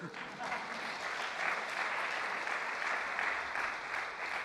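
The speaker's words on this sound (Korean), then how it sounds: "우리 잉어에게 박수 한번 칩시다" A congregation at a church sermon applauds together, giving several seconds of steady, dense clapping that holds at an even level from start to finish, with no voices over it.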